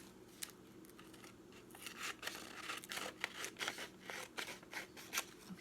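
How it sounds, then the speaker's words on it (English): Scissors snip through a Valentine-themed magazine clipping in a run of close, crisp cuts, sparse at first and then quicker and more irregular, with faint paper rustle between the snips. "now that I have this here, I'm going to cut my image out"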